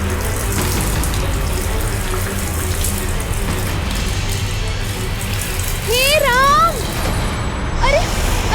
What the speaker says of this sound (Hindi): ये पानी बंद कैसे होता है?